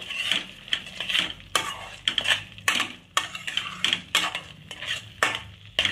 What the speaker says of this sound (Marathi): मस्त याला परत परतवून घेणार आहोत